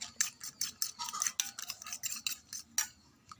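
Eggs whisked by hand in a bowl with chopped onion, green chili and salt, a quick series of sharp clinking utensil strokes against the bowl in an irregular rapid rhythm, close and clear with no talking.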